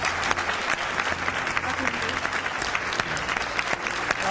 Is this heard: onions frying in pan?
no